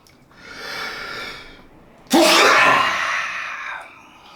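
A breathy inhale builds, then a sudden sharp sneeze bursts out loudly and trails off, close and alone.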